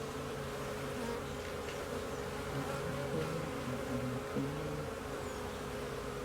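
Honeybees swarming during a hive installation at Little Oak Farm, a dense, continuous buzz of many wings, close and steady throughout with no voices.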